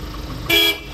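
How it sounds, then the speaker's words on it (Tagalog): A single short horn toot from a Hyundai HD36L diesel utility van blares close by for a moment, rising above a steady low background hum. "Naka-upgrade yung busina eh"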